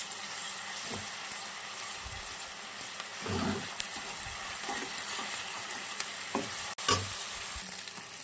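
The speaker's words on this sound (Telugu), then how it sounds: "అల్లం వెల్లుల్లి పేస్ట్ బాగా వేగుతుంది" Ginger garlic paste with curry leaves fries in a pan with a steady close sizzle, broken by several louder bursts of stirring and spatula scrapes.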